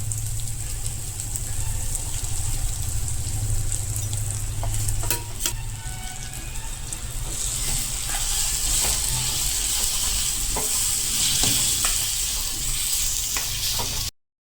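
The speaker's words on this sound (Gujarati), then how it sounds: "હવે જે પાવડર કરીને રાખેલો છે તે નાખી દેશું" Spice powder is stirred into kantola (spiny gourd) curry frying in a pan, giving a steady, close sizzle with scraping stir strokes and occasional clinks of the spoon throughout.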